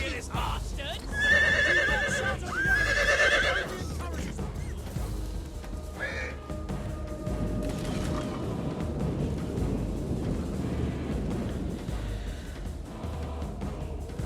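Horses neigh in Total War: Attila as medieval cavalry sallies. Two loud shrill whinnies come early, then a fainter one, followed by a long rumble of hooves and battle noise, with someone talking over part of it.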